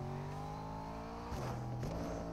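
A car driven in Fortnite gives off a steady, fairly faint engine drone that holds its pitch and then shifts up in two steps as it revs, with no talk over it.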